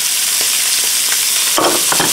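Onion and parsley sizzle steadily in a hot cast iron pan, a broad hissing fry punctuated by a few louder crackling bursts near the end, close and alone.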